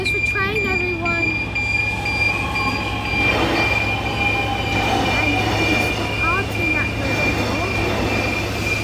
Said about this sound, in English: And here's the train, everyone.